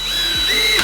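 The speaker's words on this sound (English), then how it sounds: "the next step is to take your DeWalt drill. Obviously it has to be DeWalt. I'm gonna do 3/8 inch holes." A DeWalt drill bores 3/8 inch holes in a drain hose to perforate it, giving a brief, close, steady motor whine that climbs slightly in pitch as the bit cuts.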